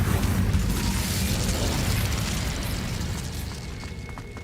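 An Incendio fire spell is cast in a video game, a loud whooshing burst with a rumbling low roar that slowly fades over several seconds.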